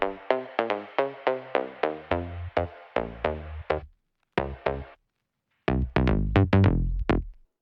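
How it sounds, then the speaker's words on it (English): A synth bass runs through a retro color transition effect with automated mix, playing a fast string of plucky notes that pause, resume sparsely, then swell into a denser, heavier run, close and clean without speech. "I'm automating the mix of something called retro color."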